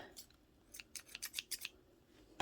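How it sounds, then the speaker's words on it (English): A few quick crisp snips of scissors cutting yarn in a tight cluster, followed a moment later by one more sharp cut, in a quiet room. "I need to get a sharper pair of scissors."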